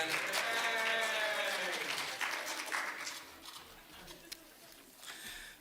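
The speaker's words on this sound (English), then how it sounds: "Round of applause for Brandon." Applause from a congregation at a Purim service with megillah reading, strongest at the start and thinning out over several seconds, with some talking and cheering mixed in.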